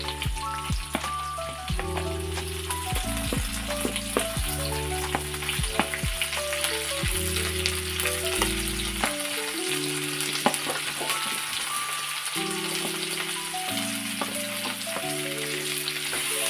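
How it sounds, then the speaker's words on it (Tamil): Onion and tomato sautéing in butter with a little oil: a steady sizzle and frying hiss runs underneath loud background music, with no talking. "இந்த ஆனியன் தக்காளி எல்லாம் இப்போ நம்ம இதில் இந்த பட்டர்லேயே வதக்கிக்கலாம்."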